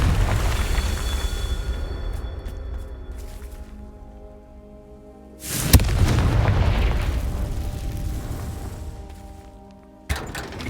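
Fiery spell explosions from the Confringo curse in the Hogwarts Legacy video game: two sudden loud booms several seconds apart, each followed by a rumbling decay, over a steady game ambience.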